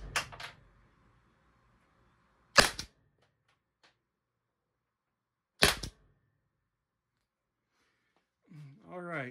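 A Byrna LE launcher fires the rest of its magazine in a few sharp, loud pops spaced seconds apart, with near silence between shots and a faint voice near the end.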